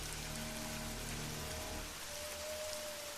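Dense, steady rain pours down in a constant hiss, with a faint low hum and a thin tone running underneath.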